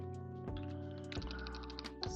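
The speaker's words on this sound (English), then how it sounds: "that concludes our typing session" Rapid, uneven clicks of a computer keyboard during a programming session, the keystrokes close and crisp in bursts against a quiet room.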